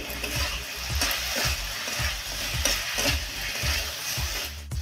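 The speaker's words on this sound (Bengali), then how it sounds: "ঢাকনা খোলার পর 2 মিনিট নেড়ে চেড়ে নিয়ে" Potato and data stalk curry stirred in a pan, a steady rhythm of scraping strokes roughly every half second over a soft sizzle, close and fairly quiet.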